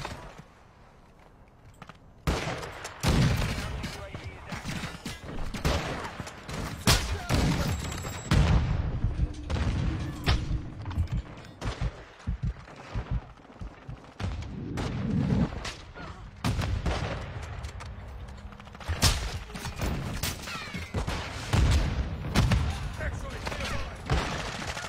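Sniper rifle gunfire in a video game, with a rapid string of sharp shots and thuds over about twenty seconds, some in dense bursts, under intermittent talk.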